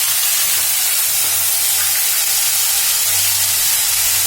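Onion paste hitting hot oil in a pan for an aubergine pickle-style curry, a loud, continuous hiss and sizzle like escaping steam, steady and close, with no talking.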